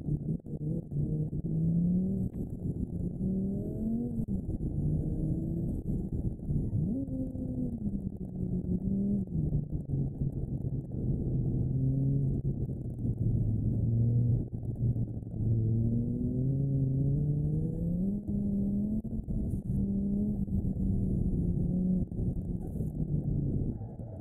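A car with a 2.5-liter inline-five engine in the BeamNG.drive video game revs continuously, its pitch rising and falling through repeated throttle sweeps, loud and steady with no voices.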